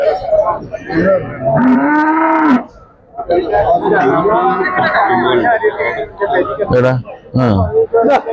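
Cattle at a weekly Sunday livestock market in Chattiparamba low and moo repeatedly, close and loud, over busy market chatter and people talking nearby.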